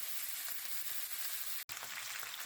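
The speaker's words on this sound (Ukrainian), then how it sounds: "Я смажу шкварки на такому середньому вогні і кришкою я не накриваю поки" Steady crackling sizzle of pork cracklings frying in their fat in an uncovered pan over medium heat, close and continuous, with a brief dropout partway through.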